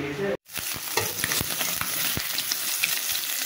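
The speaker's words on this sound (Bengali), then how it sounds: "বড়ি দিয়ে ছোট্ট ট্যাংরা মাছ দিয়ে লাউ দিয়ে রান্না করে দিচ্ছি আজকে।" Small tengra fish with bori and bottle gourd cook in a pan, giving a steady bright sizzle with clear stirring knocks at an irregular rhythm. There is a brief silent gap near the start.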